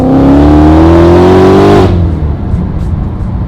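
Supercharged 800 BHP Ford Mustang engine, a very loud, close rev climbing steadily in pitch with a rich throaty whine before cutting off sharply, leaving a rumbling idle.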